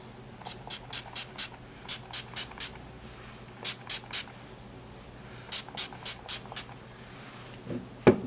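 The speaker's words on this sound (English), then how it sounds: "I'm gonna spray my Urban Decay all nighter spray" A series of short, sharp makeup setting spray bursts from an Urban Decay All Nighter bottle, several quick pumps in clusters with brief pauses between, close by and with no one talking.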